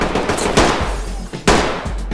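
Gunfire in the tactical shooter Ready Or Not on a hardcore military mod: two loud, close bursts of automatic fire, the first near half a second and the second around one and a half seconds, over constant low game rumble.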